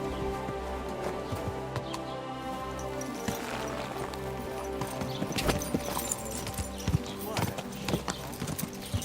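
Horse hooves clip-clopping steadily in Kingdom Come: Deliverance 2 as the rider moves along, close and continuous, with a neigh in places and someone talking over the hoofbeats.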